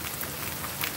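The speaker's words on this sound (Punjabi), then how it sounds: "ਅੱਛਾ ਗੜੇ ਪੈ ਗਏ ਇੱਧਰ ਪੈ ਗਏ" Hail falling during a storm in Jalandhar, Punjab, a dense, even patter of small hits striking surfaces nearby, heard on its own without voices.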